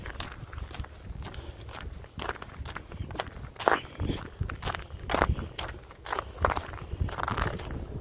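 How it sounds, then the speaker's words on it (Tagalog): Close footsteps crunch steadily on a hard, brittle surface at an even walking pace, with faint outdoor ambience behind them. "yun o crunchy siya ganito pag tapos na ulan naninigas yung sahig sa madulas"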